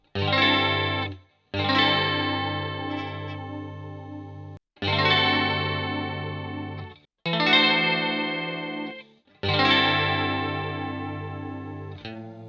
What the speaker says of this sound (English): And then we can even go to the 11th chord,